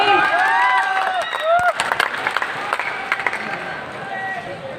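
Audience applause for teachers at a live event in Bapu Sabhagar hall, Patna, begins as dense clatter about midway, mixed with crowd noise and voice-like whistles, steady and moderately loud to the end.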